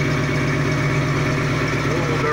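A Ford Mustang with long tube headers and a brand new exhaust system idles steadily, with a constant rumble that carries on without a break.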